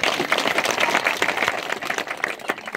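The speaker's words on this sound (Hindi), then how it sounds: "ताली बजाएंगे।" A church congregation at a village wedding in Kiriya, Dharamjaigarh, Raigarh district, Chhattisgarh, claps throughout, a close, lively patter of many hands that rises and dips slightly without pause.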